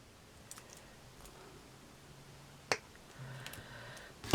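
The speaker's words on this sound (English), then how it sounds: "I'm going to cut this down to size." Beading wire snipped to size for a heart-shaped beaded pendant makes one crisp, close click from the cutters, followed by soft rustling handling in an otherwise quiet room.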